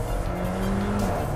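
Alfa Romeo 4C sports car with a steady, loud engine drone and a few sharp exhaust pops and crackles scattered through it, close up with no voices.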